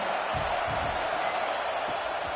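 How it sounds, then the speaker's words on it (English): Steady, roaring stadium crowd noise at a college football video game, a dense continuous wash of cheering that stays loud and even throughout without distinct peaks. "This crowd bringing the energy and noise early"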